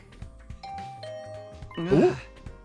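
A video game doorbell chimes once with a ding-dong tone near the end, ringing clearly over soft background game music.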